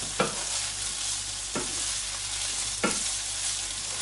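Meatballs frying with tomato paste and pepper paste in a pan, a steady close sizzle broken by three spaced scrapes of a spoon stirring.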